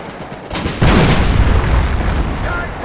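Artillery shells from a Company of Heroes WWII battle land in loud booming explosions, one heavy blast rolling into sustained rumbling detonations, with shouting voices over the barrage.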